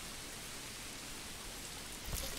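Steady rain falls in the medieval city-building strategy game Manor Lords, a continuous hiss of drops that stays even throughout and swells briefly near the end.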